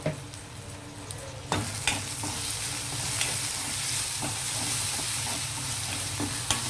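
Tomato, turmeric and masala fry in a pan for a drumstick and cashew curry. A loud, continuous sizzle sounds up close, with occasional sharp clacks of a stirring spoon and no speech.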